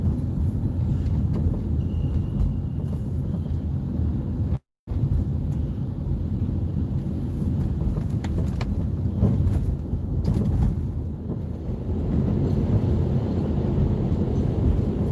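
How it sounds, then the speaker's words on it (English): Steady, loud low-frequency rumble of a train rolling past close by overhead in New York City at night, continuous for the whole stretch with one brief cut. "Hearing the train just makes me feel good."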